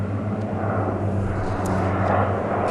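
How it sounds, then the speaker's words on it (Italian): Canadair firefighting aircraft fly over Lake Cecita, a loud continuous engine roar with a low droning hum that holds steady and close throughout, with no voices. "I Canadair e gli elicotteri sorvolano il lago Cecita, caricano l'acqua dall'invaso"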